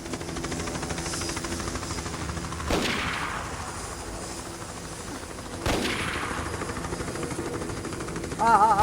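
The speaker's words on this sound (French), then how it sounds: "Ça tire à balles réelles" Gunfire in the video game Tomb Raider 6, set in an apartment and on Paris rooftops: two sharp, loud shots about three seconds apart, each with a short decaying tail, over steady in-game ambience.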